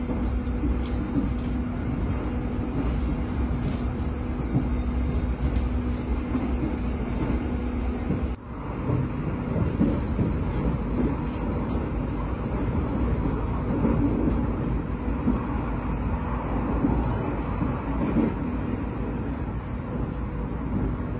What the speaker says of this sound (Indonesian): kereta Argo Semeru melintas perlahan ya